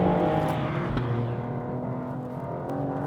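A 2021 BMW M4 Competition, a front-engine rear-wheel-drive car, with its engine pulling hard under acceleration: a steady, throaty drone at a constant level, heard close and with no voices.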